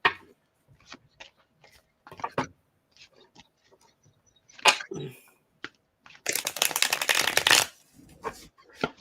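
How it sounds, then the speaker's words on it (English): Playing cards handled with scattered snaps and taps, then a dense riffle-shuffle burst lasting about a second near the end, close and crisp, in a quiet room. "Shuffle."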